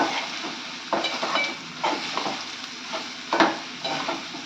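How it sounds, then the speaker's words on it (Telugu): Ginger and turmeric are stirred into a curry in a pan, a soft sizzle under repeated scraping strokes of the spoon, close and moderately loud. "అల్లం వేసుకొని ఇవన్నీ ఒకసారి బాగా కలుపుకోవాలి."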